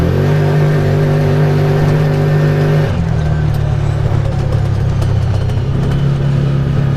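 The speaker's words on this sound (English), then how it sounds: "low range from about 11 miles an hour, full throttle" A Massimo MSU 850 side-by-side in low range, taken from about 11 mph to full throttle: a loud, close engine roar that holds steady, then shifts to a rougher, deeper surge with spinning wheels about halfway through.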